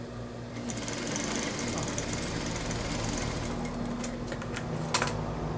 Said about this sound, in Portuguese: frente com frente, nós vamos passar uma costura aqui pra segurar as duas, é bem na bordinha